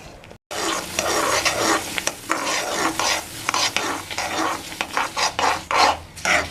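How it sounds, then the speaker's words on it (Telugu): Roasted sesame seeds stirred into hot jaggery syrup for sesame laddu, a spoon scraping and rasping steadily through the thick sticky mixture with a faint sizzle, close and continuous with rhythmic strokes throughout. "బెల్లం అంతా కలిసిపోయేలాగా మంచిగా కలుపుకోవాలి."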